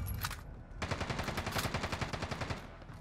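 Rapid automatic gunfire in a video game, a short single shot followed by a sustained burst of fast, evenly spaced rounds, loud and close, with no talking.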